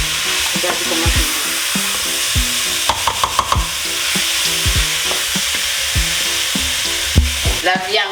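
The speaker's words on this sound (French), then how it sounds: "Je vais ajouter le poireau à l'intérieur" Chopped leek frying and stirred in a hot pan with pieces of smoked pork roast: steady sizzle under repeated scraping spoon strokes, with clinking utensil taps near the middle.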